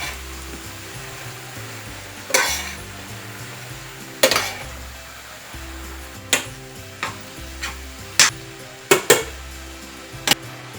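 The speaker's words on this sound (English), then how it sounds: "Stir it up." Onions are stirred in a pan for a Mexicali hashbrown taco casserole, with sharp spatula scrapes and taps against the pan spaced unevenly over a low background hiss.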